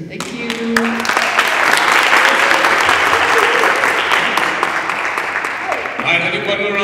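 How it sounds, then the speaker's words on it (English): Audience applause at a youth summit rises out of a speaker's closing words into a sustained, loud wave of many clapping hands, with voices and cheers mixed in before talking returns near the end. "have you put a round of applause"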